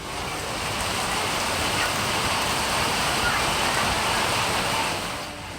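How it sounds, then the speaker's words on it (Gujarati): Dense, continuous hiss of heavy monsoon rain pouring down in Banaskantha district, Gujarat, loud and unbroken, easing slightly right at the end. "ઉત્તર ગુજરાતમાં બનાસકાંઠા જિલ્લામાં ધોધમાર વરસાદ પડ્યો"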